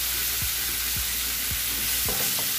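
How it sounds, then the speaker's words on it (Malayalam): Chilli paneer sizzles steadily in a pan with vinegar while a spoon stirs it, scraping against the pan in regular strokes roughly every half second, close and continuous. "ഒന്ന് ഇളക്കി കൊടുക്കണം."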